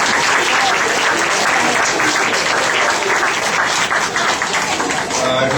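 An audience at a Patriotism Day celebration claps loudly and steadily, a dense, sustained round of applause that holds for the whole stretch and eases slightly near the end.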